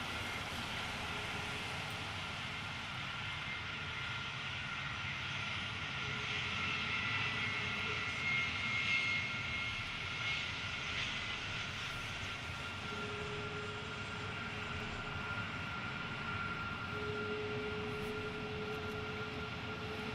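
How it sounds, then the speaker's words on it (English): Military aircraft in an elephant walk, Ospreys, Hercules and KC-135 tankers lined up together, giving a steady distant engine drone and rumble that swells slightly midway, with no talk. "to get another elephant walk, this time with the Ospreys, the Hercules, and of course a few KC-135s as well."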